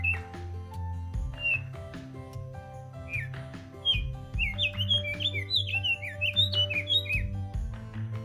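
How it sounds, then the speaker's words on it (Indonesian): Mountain birds on Mount Merbabu in Indonesia give bright chirps and whistled calls, sparse at first then a lively overlapping flurry, over a low steady hum of background music. "disambut burung kacar gunung yang riang menyambut tim ekspedisi Gunung Merbabu Komparle"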